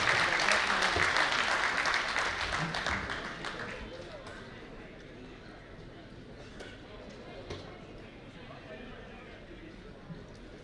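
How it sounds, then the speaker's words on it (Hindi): Audience at a community event applauds to welcome a speaker, loud clapping at the start that fades over several seconds into a quieter room with scattered sounds and background voices. "जोरदार तालियों के साथ स्वागत।"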